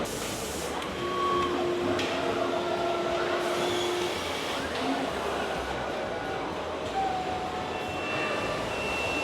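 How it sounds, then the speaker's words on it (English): Automated car factory wheel and tire assembly line in Chongqing, China, with a constant loud industrial drone, whirring machinery, occasional tonal whines and clanks, no voices heard. "Here we are is their wheel and tires assembly. It's also automated, grasping the tire and put it onto the vehicle."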